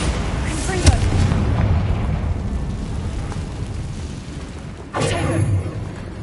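Bombarda and Confringo spell explosions in the game Hogwarts Legacy on PS5, two booming blasts a few seconds apart over a low rumbling game backdrop.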